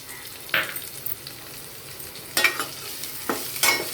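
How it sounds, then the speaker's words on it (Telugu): Finely sliced onion sizzles in hot oil over a tempering of curry leaves, with a few distinct scraping stirs of a spoon in the pan breaking through a steady low frying hiss. "ఇప్పుడు ఒక ఉల్లిపాయ సన్నగా తరిగి ఆ ముక్కలు వేస్తున్నాను"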